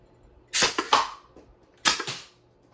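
A Nerf HPA semi-automatic blaster prototype fires foam darts in two separate bursts, each a sharp pneumatic crack followed by quick rattling follow-ups, heard close and loud with quiet pauses between and no talking.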